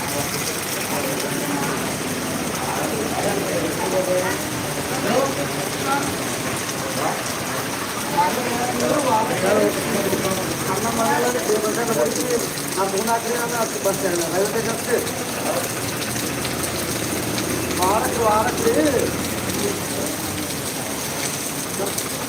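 Heavy evening rain pours down in Bethamcherla, a dense continuous hiss of falling water with people's voices talking underneath the downpour.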